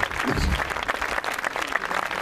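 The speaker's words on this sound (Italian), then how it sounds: "un grande applauso ad Andrea Tromba" Dense audience applause at a day honoring Giulio Capiozzo in Cesenatico, cheering for Andrea Tromba, steady and close with many hands clapping throughout and a few scattered crowd voices.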